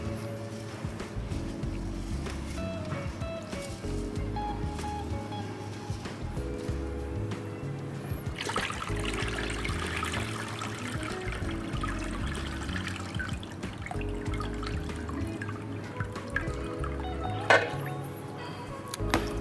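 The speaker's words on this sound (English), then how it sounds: "let's put some more water on top" Water poured over sushi rice in a bowl during rinsing, a steady trickling pour with light splashing that carries on for the whole stretch, close by, with music playing underneath.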